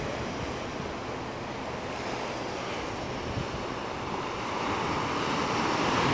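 Ocean waves at the Redondo Beach pier, a steady broad wash of surf with wind noise on the microphone, continuous and fairly loud, with no talk.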